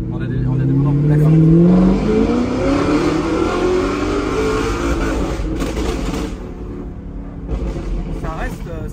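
An Audi R8 accelerating hard, its engine note climbing in pitch through a loud, close rev before easing off, with voices partly over the engine noise.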